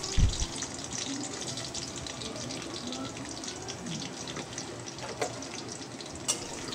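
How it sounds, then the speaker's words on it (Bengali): Bitter gourd rubbed with salt and turmeric drops into hot oil for frying, giving a steady close sizzle and crackle with a few louder pops and no one talking. "লবণ হলুদ দিয়ে মেখে রাখা করলাটা দিয়ে দেব।"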